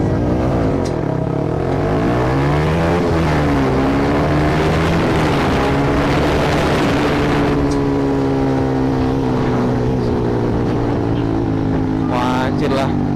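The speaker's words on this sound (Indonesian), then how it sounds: "Terus lepas kopling pelan-pelan sekaligus gasnya." Sport motorcycle engine held at high revs above 7,000 rpm, then a slow clutch release with throttle for a launch, loud and close with rising and falling engine pitch throughout.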